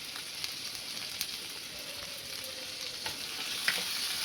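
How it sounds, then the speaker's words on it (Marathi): Tomatoes, ginger, garlic and three red chilies sauté in a pan, a soft, steady sizzle with a few faint clinks and stirring scrapes scattered through, heard alone without speech. "आणि टमाटर चांगलं परतून घ्यायचं."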